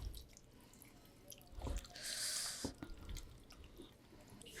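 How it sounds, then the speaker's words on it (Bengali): Cold water is poured onto mashed wood apple pulp for a juice, a short faint splash near the middle among quiet drips and soft handling sounds. "ঠান্ডা পানি দিয়ে নিব।"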